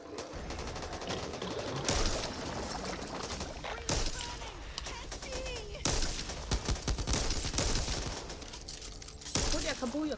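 Rapid gunfire in the zombie shooter Back 4 Blood, with loud sustained bursts and fusillades shot at a zombie. Chattering volleys break off at short gaps and restart, with voices talking over the shooting.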